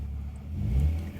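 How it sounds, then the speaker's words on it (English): A car's stock exhaust gives a short, low burble close by, a brief rumbling swell that rises and fades. "it's a little bit of a back burble, which is nice"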